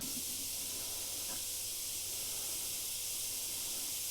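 An Iwata HP.B Plus airbrush with a 0.2mm needle sprays finely, giving a steady, even airy hiss that runs unbroken from start to finish.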